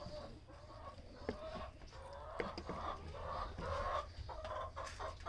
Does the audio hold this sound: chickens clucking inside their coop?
yes